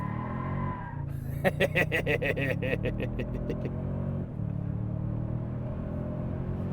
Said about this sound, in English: Still rips pretty hard with a brake boost.